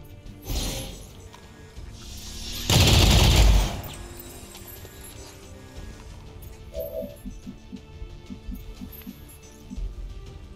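Gunfire from the video game XCOM Long War of the Chosen: a short burst near the start, then a loud sustained volley of shots, followed by quieter game sounds and faint clicks.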